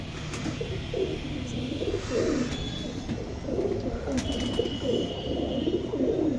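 Pigeons in a loft coo in repeated low, rolling phrases, several birds overlapping at close range, with faint chirps and a steady murmur around them.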